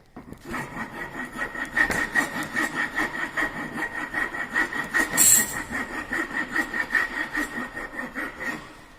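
A hand file working wood in a carpentry shop, giving a continuous close rasping sound with a regular back-and-forth stroke rhythm, fairly loud and with no talk.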